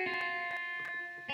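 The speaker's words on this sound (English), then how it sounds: "I'm actually gonna add in quite a lot of reverb." Guitar notes drenched in heavy reverb and effects in a sad trap beat, a few quiet plucked tones ringing into long shimmering tails, played softly and alone.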